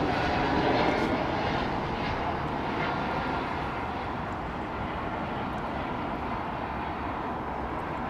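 A KLM airliner departs Heathrow with a sustained, broad jet-engine roar that stays loud and steady as it climbs away, heard without any talking.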